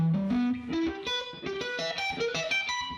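Sweep-picked arpeggio on a distorted, effects-laden electric guitar, rapid rolling notes climbing upward in a smooth cascading run, heard alone and close.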